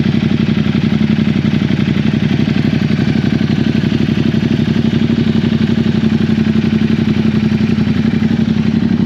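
A Ducati motorcycle with the 1260 Multistrada engine runs steadily at close range in a used motorcycle shop in Bangkok, giving a constant, even, rapid-pulsing drone with no talk over it.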